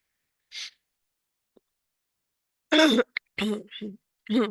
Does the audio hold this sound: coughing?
yes